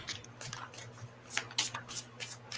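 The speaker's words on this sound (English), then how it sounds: "So I guess I should shuffle." Tarot cards are shuffled close up during a live reading, with soft riffling bursts and papery slides repeating at an irregular pace over a faint low hum.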